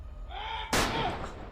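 A single loud gunshot bursts out after a shouted voice during a tense armed standoff, its sharp crack trailing off into a lingering echo.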